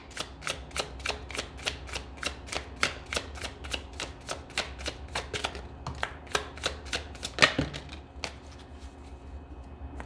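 Tarot cards are shuffled by hand in a rapid series of crisp, evenly spaced riffling snaps, close and quiet, followed by a brief louder slap and a few slower flicks as cards are drawn.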